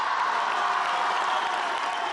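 Audience applause and cheering for the governor at a public event in Mexico, a steady, dense wash of crowd clapping and voices that holds evenly throughout.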